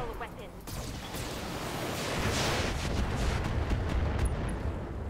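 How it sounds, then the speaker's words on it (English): Weapons fire from the Roguepoint video game rolls out as a dense, continuous barrage of booming blasts that builds after the first second and stays loud and sustained throughout. "Firing all weapons."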